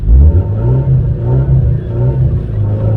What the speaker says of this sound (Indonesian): mobil ini ya dengarkan knalpotnya, mudah-mudahan kedenger ya